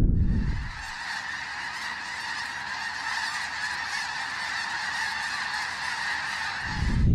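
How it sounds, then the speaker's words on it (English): A large flock of geese honks continuously over rice fields, a dense and fairly loud chorus of overlapping calls that stays steady for the whole stretch, with no talking. "You guys can probably hear a lot of geese squawking in the background."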